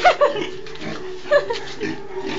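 A sow grunts in her pen on a farm, giving several short, close, nasal grunts in an uneven rhythm, with a faint voice in the background.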